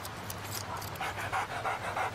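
Dog panting in a Super Bowl Doritos commercial: rhythmic, fairly close breathy pants repeating steadily over a low background hum, no talking.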